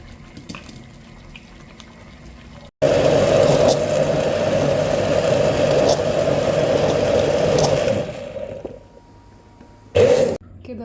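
A kitchen blender whirs loudly and steadily through pizza sauce made with tomato and thyme, running several seconds before winding down, then giving one short final burst.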